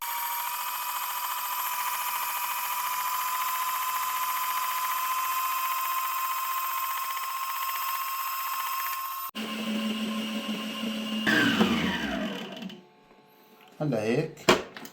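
A stand mixer runs steadily while kneading cupcake batter of sifted flour, baking powder and milk, a constant motor hum for several seconds before clattering, scraping bursts and a brief pause.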